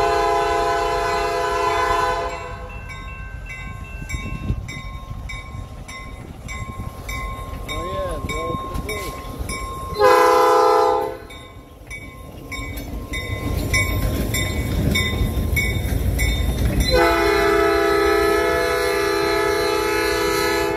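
A Norfolk Southern freight train passes near with a loud diesel locomotive horn sounding in long blasts, separated by a gap, over a rumbling engine and rolling rail noise.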